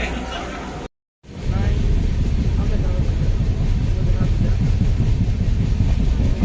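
A steady, loud rumble of a moving train carries through a passenger carriage in Uttar Pradesh. It cuts out briefly near the start, then returns unbroken, with faint chatter from other riders underneath.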